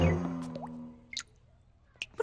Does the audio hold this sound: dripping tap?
yes